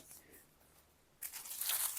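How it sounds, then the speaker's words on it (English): Paper or plastic packaging on a small-shop order of diamond painting accessories is torn open and crinkled: quiet faint rustling at first, then a louder burst of tearing and crinkling that continues to the end. "Let me open these. Sorry for all the crinkling"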